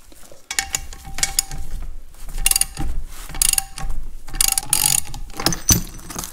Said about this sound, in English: you just keep cranking down on that nut until it pulls that guide up into the center of this sleeve, and then just take it out